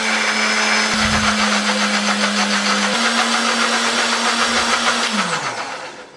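A kitchen blender grinds red chili, shallots, garlic, turmeric and candlenut with a little water, a loud steady whirring drone with a brief pitch step midway, then winding down as it stops.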